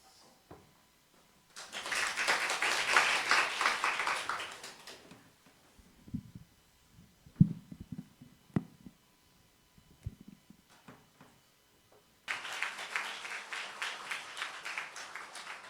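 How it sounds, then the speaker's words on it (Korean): Congregation applause at an evening church Bible seminar comes in two loud bursts of clapping, each several seconds long, with a quieter stretch of scattered taps and knocks in between. "여러분 큰 박수 부탁드리겠습니다"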